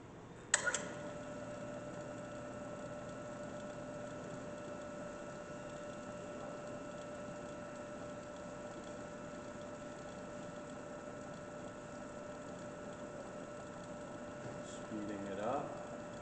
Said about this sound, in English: First I'll bring on the power feed.